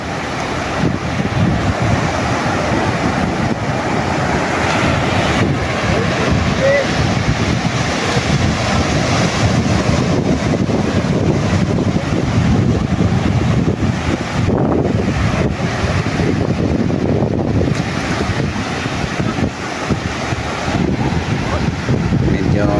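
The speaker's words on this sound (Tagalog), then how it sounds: "Umalon na alon." Out at sea on a fishing boat working a net for talakitok, wind buffets the microphone over a constant wash of waves for more than twenty seconds, with the boat's movement audible throughout, loud and unbroken.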